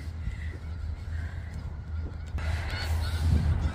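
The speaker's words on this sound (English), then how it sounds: "we saw this snow geese at the park" Snow geese honking repeatedly outdoors in a park, a steady chorus of calls over low rumbling background noise, growing slightly louder toward the end.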